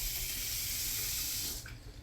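Water runs steadily from a newly installed faucet aboard a boat, a close, even hiss that cuts off near the end.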